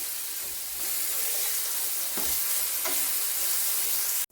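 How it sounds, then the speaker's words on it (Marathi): Brinjal slices fry in a pan with a steady, loud sizzle and hiss, with a couple of quick stirring scrapes near the middle before the sound cuts off abruptly. "आता आपण पलटी करून घ्या आणि दुसरी बाजू पण छान भाजून घ्यायची, म्हणजे फ्राय करून घ्यायची."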